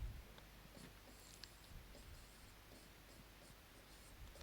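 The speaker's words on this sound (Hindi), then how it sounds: "इसको थोड़ा सही से लिख देते हैं" Pen writing by hand on paper during a grammar lesson, faint scratchy strokes in short irregular bursts, close but quiet over low background noise, with no talking.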